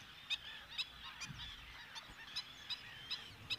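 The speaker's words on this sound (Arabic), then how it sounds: "هادو بعض الطيور المهاجرة اللي وجدتها في هذه المنطقة هذه" Migratory water birds in a Moroccan wetland colony, faint distant honking calls repeating at irregular intervals over a quiet outdoor background, with no talk.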